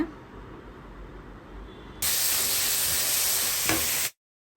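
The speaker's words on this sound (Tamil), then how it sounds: "வெங்காயம் போட்டு ஒரு ஃபைவ் மினிட்ஸ் நல்லா வதக்கி விட்டுக்கணும்" Onions go into hot coconut oil in a pan, setting off a sudden loud, bright sizzle after a quieter stretch; the hiss holds steady for about two seconds before cutting off abruptly.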